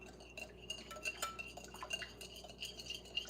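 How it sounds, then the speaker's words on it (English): Homemade Italian dressing whisked in a bowl, quick irregular clinks and scrapes of the whisk against the bowl close by, with no voices. "So I'm gonna keep giving this a whisk."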